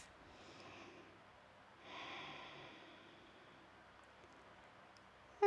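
A single deep breath during a standing mountain yoga pose, a soft airy inhale followed by a slower, longer exhale, close and quiet with no talking.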